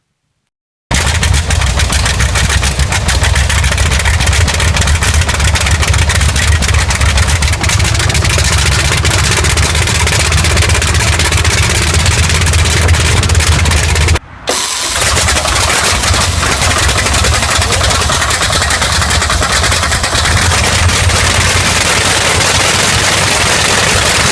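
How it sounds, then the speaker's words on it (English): A big World War II-era sleeve-valve radial aircraft engine cranks and roars to life, running loud and steady with a rough, throbbing drone, a brief dropout midway. "this World War II-era sleeve valve engine thunders back to life"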